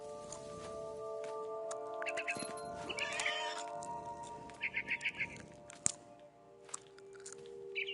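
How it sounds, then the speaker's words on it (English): A cat in the video game What Remains of Edith Finch purring in short, rhythmic pulses over a quiet musical game backdrop, with a few sharp clicks and rustles around it. "You can hear her purring and everything."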